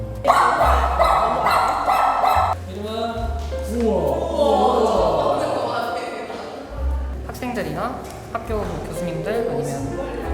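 Dogs bark and yip at a dog daycare playground, several short overlapping barks at moderate distance, under steady talk.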